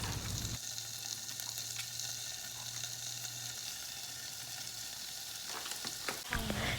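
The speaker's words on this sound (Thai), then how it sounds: "เราก็นำตัวของหมูเนื้อหมูเนี่ยนะคะ มาใส่ ลงไปแล้วก็ผัดนะคะ ให้จนสุกนะคะ" Pork stir-fried with garlic in a pan, a soft continuous sizzle with faint stirring scrapes, fairly quiet and steady, no talking.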